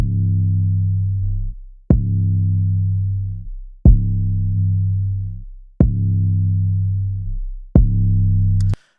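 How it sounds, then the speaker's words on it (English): Heavy 808 bass pushed through a tube- and tape-style saturation plugin, five long sustained distorted notes each starting with a sharp click attack and ringing out loud before the next hit. "I'll throw the 808 through it."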